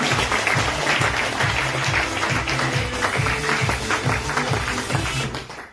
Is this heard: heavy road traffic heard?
no